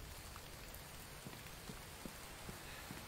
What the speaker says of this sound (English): Back with the rain, of course.